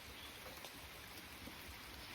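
Steady rain falls over a Sri Lankan village, a soft continuous hiss of drops that stays even throughout, faint and with no voices.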